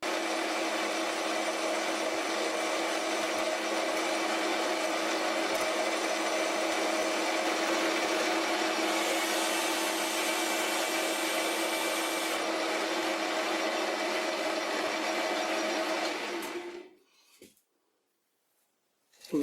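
A metal lathe takes a cutting pass at 970 RPM on a drill chuck arbor made from an old tractor part, a loud steady whining drone with scraping tool noise that runs for about sixteen seconds before cutting off.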